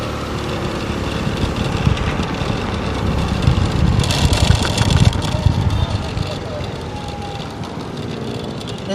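A motorcycle engine rumbles steadily while riding, a broad low drone with road and wind noise that swells briefly in the middle before easing back.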